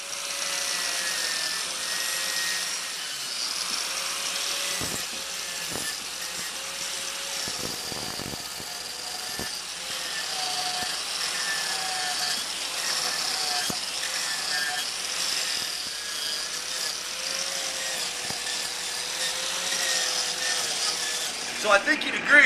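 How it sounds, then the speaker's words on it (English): A Milwaukee 4.5-inch angle grinder fitted with a Lancelot carving attachment bites into wood, giving a steady, loud, high-pitched grinding whine that runs without a break for over twenty seconds. "the Lancelot takes out a lot of bulk in a hurry"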